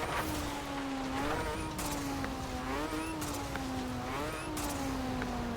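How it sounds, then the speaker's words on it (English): Mazda RX7 Spirit R in Forza Horizon 4 holds a steady, continuous engine drone with slight pitch rises and dips as it revs, loud and close throughout with no talking. "hear that engine."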